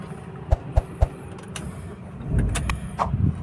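Three sharp clicks, then a Ford Fiesta engine cranks and catches, turning over with a low rumble close by.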